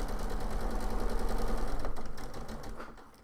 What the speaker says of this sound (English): turn it round and I'm going to sew 1/4 inch the other side as well